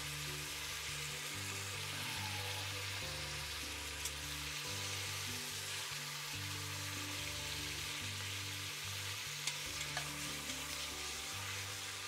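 Veal escalopes sizzle in a pan of butter and oil, a continuous crackling fry with faint scattered pops, steady and fairly quiet throughout with no voices.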